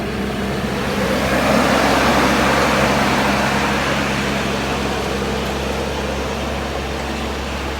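PistenBully snow groomer grooming a snowy trail, a steady broadband mechanical roar with a deep engine hum that swells slightly then holds constant nearby.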